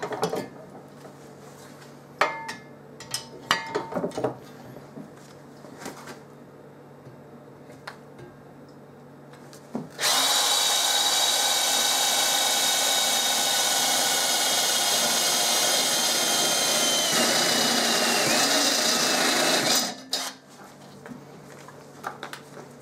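A step drill on a milling machine cutting through sheet metal: loud, steady grinding and shrieking for about ten seconds, after scattered clicks and taps of setup, then quieter handling noises.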